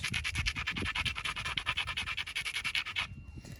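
A hammerstone rubs along the edge of a flint preform in quick, even abrading strokes, a close, gritty scraping rhythm that runs steadily for about three seconds and then stops abruptly.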